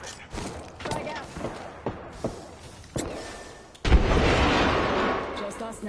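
A frag grenade explodes in the Apex Legends battle royale game with a sudden loud blast near the end, after scattered thuds and impacts, followed by a rumbling roar that lingers.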